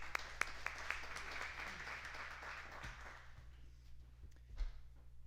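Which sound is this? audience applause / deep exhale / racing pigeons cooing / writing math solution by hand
audience applause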